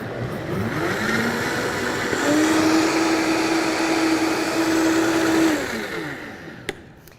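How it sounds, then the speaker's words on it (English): Vitamix blender running on high speed with water and soap inside, a loud steady whirring roar that spins up, holds for several seconds and then winds down, with no voices. "you're going to blend this on high speed for about 15-20 seconds"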